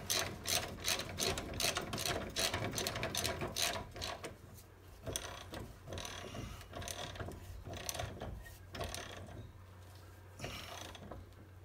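A ratchet tightens the bottom strut bolt on a 2013 Sonata during a rear strut job. Loud, rapid clicking comes in close bursts, then slower, sparser strokes as the bolt snugs down.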